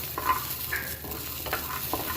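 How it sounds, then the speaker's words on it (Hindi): Almonds fry lightly in a pan for kabuli pulao, producing a soft, continuous sizzle with gentle stirring scrapes and rattles as the nuts shift. "ये बादाम हल्के से फ्राई करने।"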